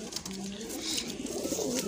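A flock of aasmani pigeons coos in a soft, rolling murmur close by, overlapping calls running steadily with light background noise and a hint of voices.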